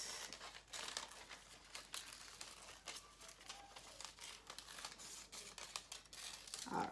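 Paper being cut out by hand with scissors, a steady run of crisp snipping and crinkling close by for several seconds, with no talk.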